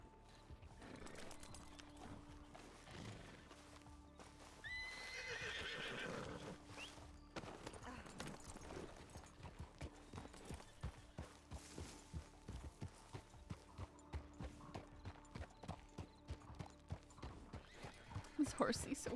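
In the RedM western roleplay game, a horse whinnies loudly near the middle, while hooves clip-clop in a steady walking rhythm that grows more pronounced toward the end.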